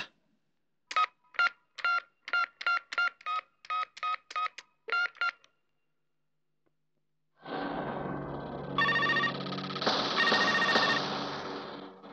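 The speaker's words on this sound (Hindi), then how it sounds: "बाबा जरा लुक्का का नंबर मिला" A phone number is dialed as a quick series of about a dozen touch-tone beeps, followed after a pause by a ringing tone on the line.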